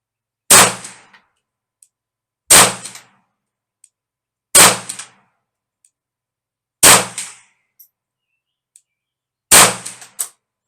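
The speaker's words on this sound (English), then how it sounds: "Round two kicking off with the Browning Buckmark." A Browning Buck Mark .22 pistol fires five evenly spaced, sharp, loud shots at targets, about two seconds apart, each followed by a faint metallic ping from the hit target.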